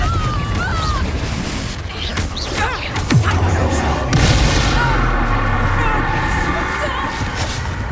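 Confringo blasting spell explosions in the PS5 game Hogwarts Legacy, with loud booming blasts and crashing impacts over continuous battle noise and a voice calling out spells.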